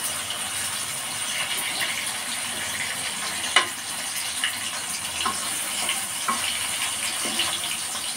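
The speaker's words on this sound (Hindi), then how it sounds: "टमाटर को अच्छी तरह से भून लेना है।" Tomatoes frying in a pan for brinjal fish curry, a steady broadband hiss and sizzle with a few faint spoon clicks scattered through, fairly quiet and even throughout, no voices.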